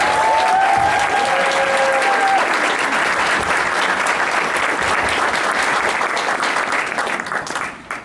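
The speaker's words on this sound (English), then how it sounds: "Let's give them one more round of applause." An audience in a hall gives a dense, loud round of applause for several seconds with a few brief whistles near the start, then the clapping fades away at the end.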